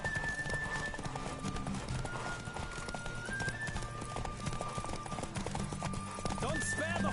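Horse galloping and neighing during a race in the video game Witcher 3, rapid hoofbeats running steadily throughout, mixed with game music and occasional voices.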